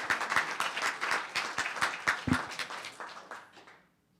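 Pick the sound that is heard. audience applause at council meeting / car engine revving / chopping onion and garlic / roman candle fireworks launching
audience applause at council meeting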